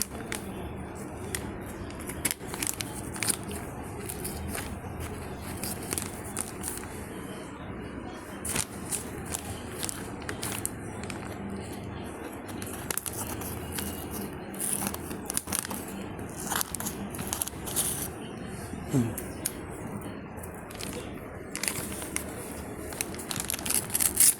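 Crinkly plastic and card packaging of a Samsung phone back cover being cut and peeled open, with frequent close crackles and snaps in irregular bursts over a long stretch.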